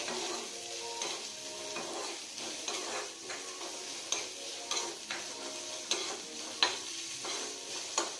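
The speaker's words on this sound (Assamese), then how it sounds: "লৰাই থাকিব, নহলে ভালকে ভাজা নাযাব পাৰে" Onions fry in a pan with a busy sizzle while a spoon stirs them, scraping and tapping against the metal in an irregular rhythm close up.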